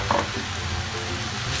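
Bean sprouts with pepper frying in a large wok give off a steady, close sizzle, with a brief scrape of stirring near the start.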